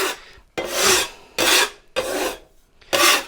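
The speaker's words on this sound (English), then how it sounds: "And use your Piezano scraper. Scrape it off" A scraper rasps across the stone of a Piezano 14-inch XL pizza cooker in four distinct, loud back-and-forth strokes separated by short pauses, with nothing else heard.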